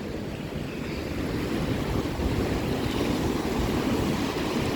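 Big waves surge and crash without letup against the Lake Michigan shore at the Portage, Indiana Riverwalk beside an eroding dune, a dense roar mixed with buffeting wind noise on the microphone.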